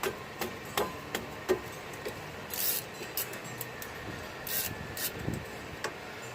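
A Harbor Freight ratcheting combination wrench clicks on a 14 mm metric nut while a wheel stud is being replaced, giving faint, irregular bursts of quick ticking at close range with no speech.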